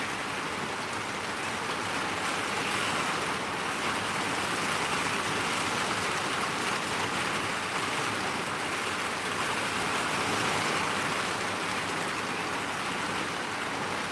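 Heavy tropical downpour in Mountain View, Hawaii, a dense, unbroken hiss of rain pouring onto surfaces, loud and steady for the whole stretch with no voices.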